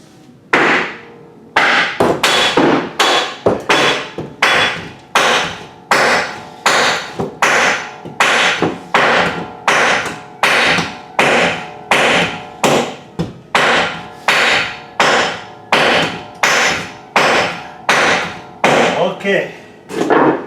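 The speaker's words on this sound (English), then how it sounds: "I've got myself a sledgehammer, and I'm going to go ahead and start beating on this thing" A sledgehammer pounds plywood wall paneling in a loft, heavy close thuds struck in a steady rhythm about once a second, each blow ringing briefly through the wood, continuing without pause.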